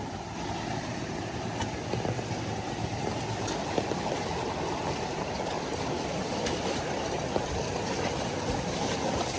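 Small boat engine running over rough, rushing river water, a loud continuous roar and wash filling the whole stretch with no break and no talking.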